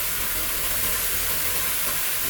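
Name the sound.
chopped broccoli sautéing in a pan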